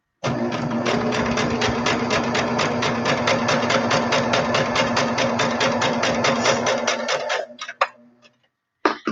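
A sewing machine stitches quilt block fabric pieces along a line, running steadily and loudly with a fast regular needle rhythm for about seven seconds, then stopping with a few short clicks.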